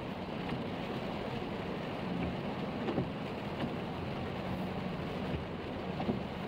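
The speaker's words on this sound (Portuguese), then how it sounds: "Eu sei que hoje tá chovendo" Steady rain falls outdoors in a park, a continuous even hiss of drops with faint scattered pattering and no voices.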